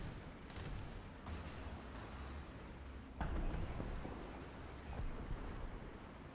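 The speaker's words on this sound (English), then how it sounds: "Quickly put in the artillery." Artillery called in by a TH800/G91 in War Thunder lands as a few distant, muffled booms over a steady low engine rumble, the loudest coming about halfway through.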